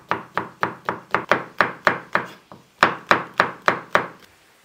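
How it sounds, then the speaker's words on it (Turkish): Green peppers being finely chopped with a knife on a board, a steady run of crisp, close knocks, about a dozen evenly spaced strokes with one brief pause midway, nothing else heard. "Dört tane yeşil biberimizi ince ince doğrayacağız."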